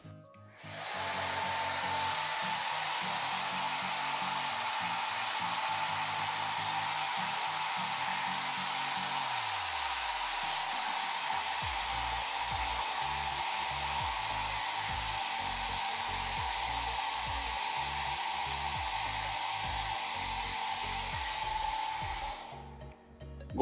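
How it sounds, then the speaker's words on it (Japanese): A hair dryer blows on the roots of the hair at the sides of the head, a steady, close, continuous whirring roar that runs unbroken for over twenty seconds with no talking. "この辺の根元もドライヤー当てていきます。"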